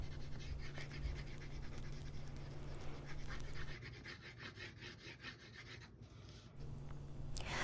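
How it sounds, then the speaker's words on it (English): A crayon lightly colors in a box drawing on paper, giving soft, faint, steady scratchy strokes up close, with no talking. "Every part of the box, I'm just coloring very lightly."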